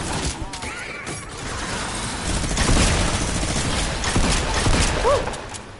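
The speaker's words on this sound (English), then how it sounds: "Mini gun!" Rapid sustained gunfire from a minigun in a video game, a dense continuous rattle that swells and holds loud for several seconds while a player shouts excitedly over it.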